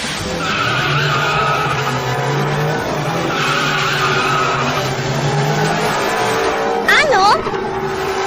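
A speeding car skids with a sharp tire squeal near the end, over steady engine and road noise, with talk running throughout.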